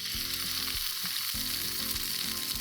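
A salmon fillet goes skin side down into hot olive oil in a pan and fries with a loud, continuous sizzle and spitting crackle close by, with a few scraping and settling knocks and no voices.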